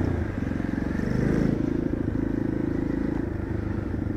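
A Honda Dax mini motorcycle rides through town, its small engine putting out a steady, close, low chugging drone with faint clatter and no voices.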